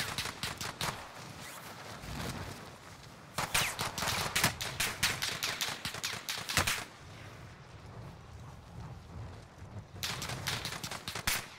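Gunfire in the video game Call of Duty Warzone, bursts of rapid automatic shots in loud clusters separated by short quieter gaps, close and sharp with no voices.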